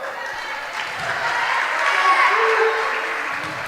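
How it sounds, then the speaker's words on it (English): Crowd at a middle school volleyball district tournament game between Summertown and Culleoka, cheering and applauding in a broad, sustained roar that swells slightly midway, with scattered voices mixed in. "Culleoka sounds like they've got a good crowd here."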